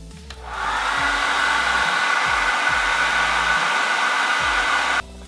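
A hair dryer switches on and blows a loud, steady whoosh close by while heating a dbrand skin on an iPhone 6s Plus, then clicks off at the end; nobody speaks.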